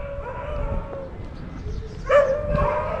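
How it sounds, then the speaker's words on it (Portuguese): Many dogs inside an old disused hospital in São Francisco do Sul whine and howl faintly from a distance, with drawn-out tonal cries rising and overlapping against low background noise. "Escuta a quantidade de cachorro que tem lá dentro"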